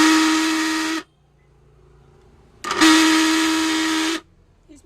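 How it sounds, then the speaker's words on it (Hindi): A noisy mixer grinder runs in two loud bursts of about a second each, a harsh whining roar with a strong steady tone, separated by a short quiet gap. "मैं आपको इस मिक्सर ग्राइंडर को चला के दिखाता हूँ।"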